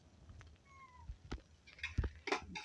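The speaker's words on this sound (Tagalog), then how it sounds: "Kasama ko yung mga pusa, di ba?" Cats meow faintly in a quiet room during a meal, two thin drawn-out calls early on, followed by scattered soft thumps and clatters.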